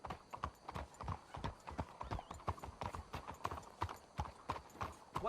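Horses' hooves clip-clop in Red Dead Redemption 2, a quick, uneven string of sharp, close strikes as several mounts walk together, with a faint whinny in the background.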